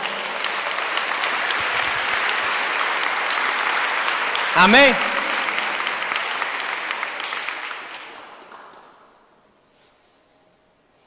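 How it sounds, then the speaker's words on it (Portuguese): A church congregation at a worship gathering applauds in a loud, dense, sustained burst that runs steadily, then fades out toward the end. A voice briefly cuts in over the clapping midway. "Se você crê, dê um aplauso a Jesus"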